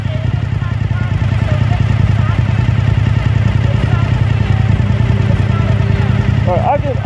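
A Suzuki SV1000 motorcycle's engine runs steadily in a parking lot, a loud, continuous low rumble under wind noise, with a brief voice-like chirp near the end.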